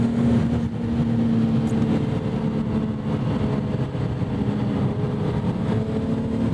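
A 1991 BMW M5 E34 engine runs with a steady low drone and a faint rumble, fairly loud and close, holding a constant pitch with no clear rise and no talking.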